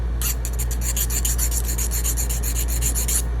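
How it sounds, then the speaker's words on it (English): A metal file rasps across a hardened, heat-treated steel knife blade in quick, even back-and-forth strokes, skating with a bright scraping skitter repeated about twenty times. "Just little file test. You can hear it skating."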